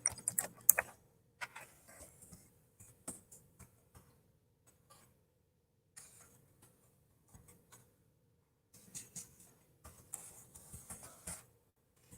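Someone types on a computer keyboard in short, quiet bursts of close key clicks, separated by pauses and brief silences.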